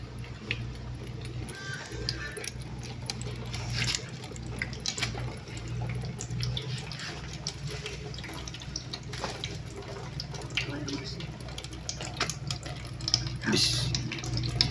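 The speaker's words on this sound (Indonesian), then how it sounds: "Servo kedua telah berputar dan membuka keran kedua yang mengalirkan air ke filter pertama." Water runs from a tap opened by a servo into the first filter of an automatic water-turbidity detection system, a continuous close splashing flow with small ticking clicks and knocks over it.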